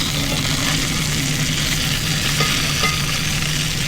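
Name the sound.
food searing under a cast iron press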